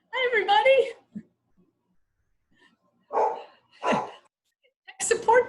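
A worked-up puppy barks in the background, two or three short separate barks spaced about a second apart, while a person talks before and after them.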